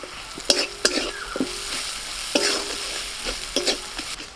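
Turmeric, garam masala, amchur and kasuri methi are stirred into frying oil in a pan for a green jackfruit filling; soft steady sizzle broken by sharp spoon knocks and scrapes against the pan in uneven bursts, no voices.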